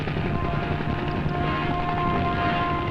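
A helicopter flies overhead while chasing calves in winter, a steady droning rotor and engine roar that stays loud and constant.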